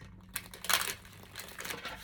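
An oracle card deck being shuffled by hand makes brief papery riffles and flicks in a quiet room, with a couple of bursts of crisp card noise close to the listener.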